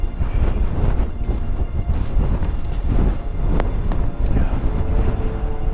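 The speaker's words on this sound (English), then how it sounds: "And the wind's blowing." Strong wind buffets the microphone on the northern coast of Scotland near a lighthouse and stone walls, giving a loud, continuous, low rumbling roar with gusty swells throughout.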